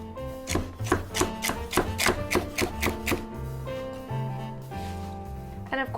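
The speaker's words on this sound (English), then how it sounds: "I've got my celery here that I'm going to finely chop" A knife finely chopping celery on a board in quick, crisp taps, about a dozen close strikes in a steady rhythm before slowing to a few scattered cuts.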